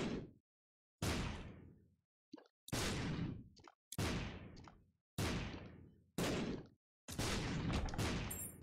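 Shots firing in The Binding of Isaac: Repentance, a series of about seven sharp, separate bursts with quick decays and short silent gaps between them.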